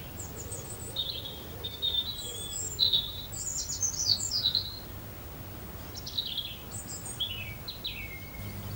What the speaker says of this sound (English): Careful observations revealed it was a sparrow.